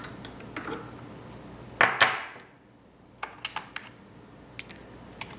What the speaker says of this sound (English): to show the amount of brass shavings that are being trimmed from the cartridge